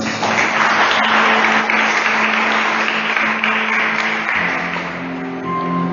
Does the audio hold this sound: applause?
yes